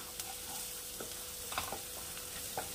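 Spices for a potato dal sauté in a hot pan with a constant sizzle, cut by a few soft scrapes and taps of a stirring spoon, close up and without speech.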